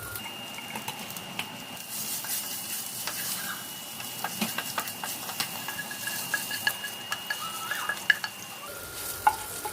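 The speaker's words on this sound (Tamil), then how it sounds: "கொஞ்சம் சின்னதாக கட் பண்ணி வச்சுருக்கேன் அதை வந்து அந்த ஆயிலில் போட்டு நல்லா வதக்கிக்கலாம்" About ten small-chopped garlic cloves sauté in oil for a tomato thokku, giving a soft, steady sizzle with light stirring taps and scrapes throughout, fairly quiet and close, with no talking.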